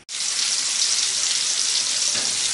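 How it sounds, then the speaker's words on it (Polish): Pork cutlets sizzle in a hot pan, a steady, loud hiss of frying fat that runs unbroken after a brief start, with no talking. "Kotlety obsmażam z jednej i z drugiej strony."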